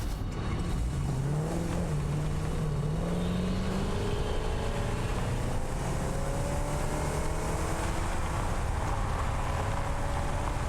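A car driving in the Satisfactory factory game, a steady droning engine note that climbs in pitch as it accelerates, loud and continuous throughout, with no speech.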